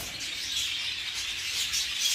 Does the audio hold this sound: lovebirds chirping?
yes